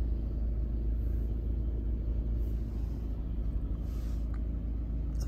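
Heavy jammed traffic at the Gwanghwamun construction zone in Seoul, a steady low rumble of idling cars and engines heard from a distance, with no voices.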